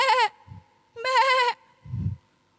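Sheep bleats loud and close: two distinct wavering calls separated by pauses, with low thumps between, no talk.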